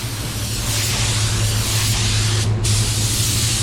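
A paint spray gun hisses in one steady, loud burst while blending a light second coat, with a brief dip near the end and no talking.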